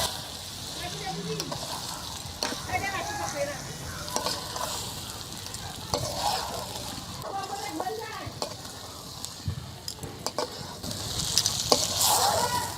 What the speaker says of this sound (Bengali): মাটন কিমার সাথে সেদ্ধ করা ডালগুলো আমি ভালোভাবে মিশিয়ে নিয়েছি